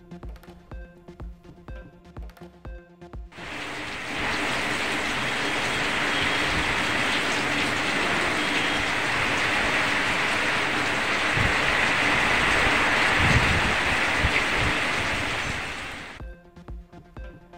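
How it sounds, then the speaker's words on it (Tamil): Heavy rain falls in Kallakurichi district in a continuous dense wash of sound lasting about twelve seconds, framed by news music before and after. "கள்ளக்குறிச்சி மாவட்டம் மற்றும் அதன் சுற்றுவட்டார பகுதிகளில் பெய்த கனமழை."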